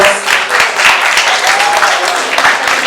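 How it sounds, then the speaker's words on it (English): Audience applause at a book launch event, a brief dense burst of clapping heard up close, steady and fairly loud throughout. "A round of applause."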